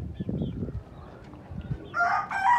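A desi rooster crows loudly at a home hen farm, its call rising near the end after a stretch of low rustling and background noise.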